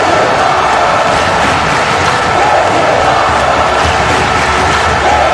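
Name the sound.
wrestling crowd cheering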